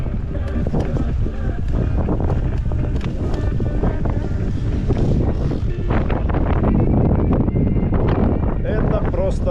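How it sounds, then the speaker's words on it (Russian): Strong cold wind blows hard and continuously across the microphone on the Crimean coast, a loud roaring buffet with gusts throughout, and voices are partly buried beneath it. "Какой холоднючий ветер"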